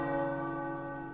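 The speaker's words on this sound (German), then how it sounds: "Die Turmglocken läuten." Church tower bells ring in the Marvel Midnight Suns video game, a sustained, resonant harmonic tone hanging steadily with a slow fade, heard alone without speech.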